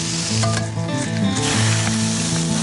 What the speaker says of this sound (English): the pawa, which is covered in oil, lemon zest and garlic before being quickly sautéed on a very hot plate